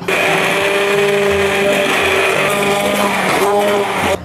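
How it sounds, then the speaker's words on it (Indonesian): Jug blender whirring loudly and steadily as it purees red pepper sauce, a constant close motor drone holding for several seconds before it cuts off at the end. "Kalau halus banget hanya bisa pakai blender galon biasa ya."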